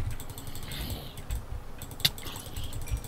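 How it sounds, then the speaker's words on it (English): Fast computer keyboard clicking during a Minecraft survival game, rapid irregular key taps at moderate level over a low background hum, one sharper click standing out midway. "Frantic clicking!"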